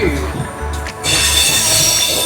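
Passenger train on the Colombo to Galle line in Sri Lanka, a loud steady rumble heard from on board with rhythmic wheel-on-rail thumps, swelling into a brighter hiss of rushing wind and track noise.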